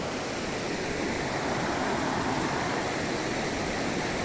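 Steady rain in a village, with water dripping onto a camera, comes through as a constant broad hiss, dense and unvarying, with no voices.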